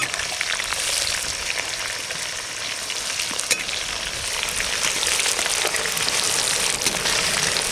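Chopped onion frying in hot oil with whole cumin seeds at a family picnic, a loud, close, continuous sizzle with occasional crackles and stirring.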